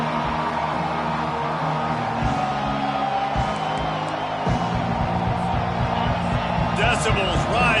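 A college football stadium crowd roars on third down, with a dense, sustained wash of cheering at steady loudness and scattered shouts rising near the end.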